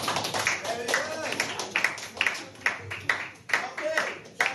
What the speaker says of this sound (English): Everyone give her a clap.